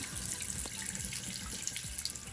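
Water runs steadily from a Glacier Bay kitchen faucet into a sink, a constant hissing splash with a few faint drips and knocks near the end.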